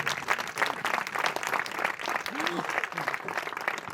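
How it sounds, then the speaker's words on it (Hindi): A church congregation applauds in praise during a Hindi-language worship service, steady dense clapping filling the room throughout, with a voice briefly rising over it. "हम फिर से एक बार प्रभु यीशु मसीह की तालियां देंगे, महिमा की तालियां"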